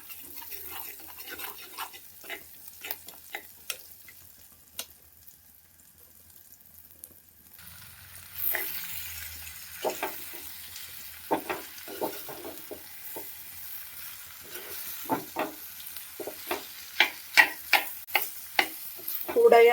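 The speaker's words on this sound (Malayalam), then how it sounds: "ഉള്ളി മുളക് പൊടിയിട്ട് മൂപ്പിക്കുന്നതാണ്." Onion and chilli powder fry in a pan while being stirred, producing a soft crackling sizzle broken by repeated close taps and scrapes of the spoon that grow busier and louder toward the end.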